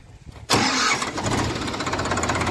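A Sonalika DI-745 three-cylinder tractor with an inline injection pump cranks and fires at about half a second, then settles into a loud, steady diesel idle close by, with no talking.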